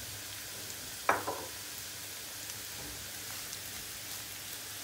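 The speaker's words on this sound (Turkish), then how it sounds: "İçine yarım fincan bir sıvı yağ ilave ediyorum. Biraz ısınsın. Hemen bolca soğanımızı döküyoruz." Chopped onions poured into hot oil in a pot hiss and crackle in a faint, steady sizzle, with a brief clatter as they drop in.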